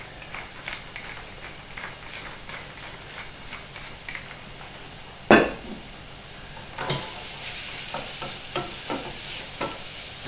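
Sweet red pepper sweating lightly in a pan with lamb steaks, a soft steady sizzle with occasional stirring scrapes and clinks, one sharp knock midway, then the frying grows brighter and louder.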